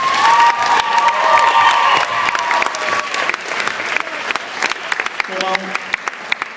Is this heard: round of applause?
yes